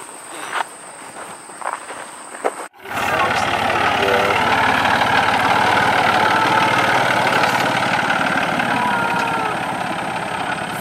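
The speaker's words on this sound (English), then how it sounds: "we have to ride a tractor, like a hayride, to get there" After a short stretch of quiet footsteps and movement, a heavy tractor engine starts idling close by, a steady low rumble that continues to the end.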